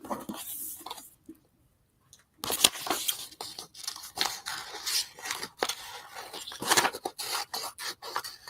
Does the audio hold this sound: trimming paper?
yes